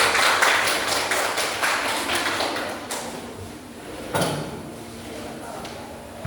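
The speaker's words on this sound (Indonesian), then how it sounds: "Kasih dulu tepuk tangan buat kelompok 1." A class applauds a student group after its presentation, with dense clapping that is loud at first and thins out over several seconds, plus a couple of sharp knocks and a faint murmur of voices in the room.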